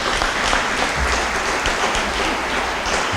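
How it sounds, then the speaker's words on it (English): A roomful of people at a celebration for a regional medical center's approval gives sustained applause, a dense, steady wash of clapping with no breaks. "Give her a round of applause."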